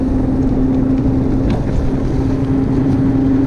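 Boat engine at speed with an odd noise, a loud continuous drone with a steady tonal hum and rushing wind and water noise throughout, no talking.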